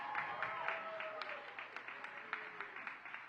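An audience claps for a youth choir at a Juneteenth and Greek Day celebration. The claps are faint and rhythmic, with a voice and tonal sound underneath.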